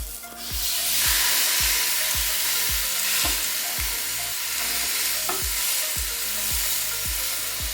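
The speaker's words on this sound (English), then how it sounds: "You ready for that sizzle?" Flank steak sizzles hard on a hot Ninja Foodi grill, a loud continuous fatty hiss that swells right after the meat goes down, with faint regular low pulses beneath and no talking.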